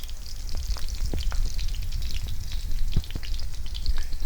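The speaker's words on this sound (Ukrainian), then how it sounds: "Ой, як вони шкварчать гарненько" Steady crackling sizzle of salmon cutlets frying in two hot pans, with scattered pops and spits throughout, close and fairly loud.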